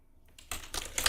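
Bursts of keystrokes on a computer keyboard while opening a terminal during a live hacking session, starting faint and growing into loud, dense clusters of clicks close by.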